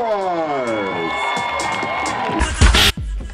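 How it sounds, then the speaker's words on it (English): A crowd at a vogue ball event cheers for a performer with rising whoops and shouted calls that sweep upward over a murmur, then a short, loud burst of noise and shouting near the end. "give Sasha a round of applause"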